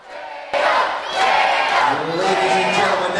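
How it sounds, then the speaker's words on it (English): A wrestling crowd at a W3L heavyweight championship show bursts into loud cheering and chanting. The roar starts abruptly after a brief quiet moment and holds at a sustained, full level. "Just listen to this crowd."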